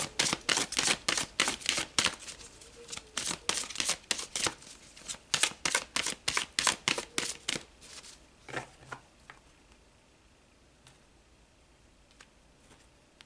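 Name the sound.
tarot cards being pulled and shuffled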